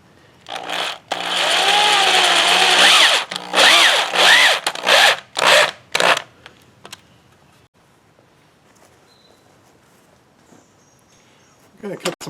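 A powered screw being driven through a 2x3 post into a board while building a temporary puppy fence, a loud whirring burst of about two seconds followed by several shorter pulses, then quiet.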